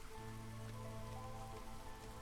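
Steady rain falls across a settlement in the strategy game Against the Storm, a dense continuous patter on surfaces with faint tonal music beneath, lasting throughout with no voices.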